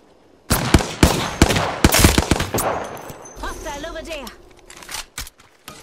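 Rapid gunfire in a shooter video game, the player under fire: a burst of sharp, close shots in quick succession, then a brief electronic warble as the shooting fades.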